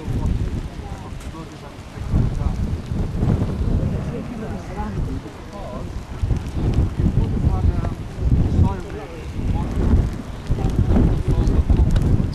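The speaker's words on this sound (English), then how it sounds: "There's a lot of wind, by the way." Strong gusty wind buffeting the microphone at an outdoor archaeological dig site, rising and falling in loud rumbling waves with voices talking underneath.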